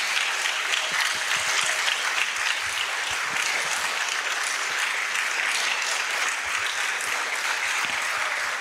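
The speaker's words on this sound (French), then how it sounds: "Mes frères et sœurs vont t'applaudir fortement" Strong applause from a conference audience for a speaker at a religious gathering, many people clapping hard and steadily throughout, a loud, unbroken roar of hands.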